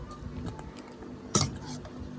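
A spoon clinks against dishes at a family meal, scattered light clatters with one sharp louder clink near the middle, over faint household background.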